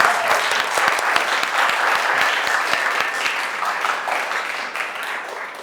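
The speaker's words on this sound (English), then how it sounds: "Let me get a round of applause." Audience applause at a crypto meetup in a gym in La Perla, old San Juan, Puerto Rico, a loud sustained sheet of clapping with some crisp individual claps, holding steady throughout.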